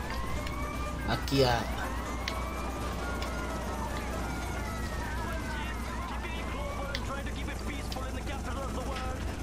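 A police car siren in the video game GTA: Liberty City Stories wails in repeated rising and falling sweeps over a low engine drone, with a brief voice speaking over it.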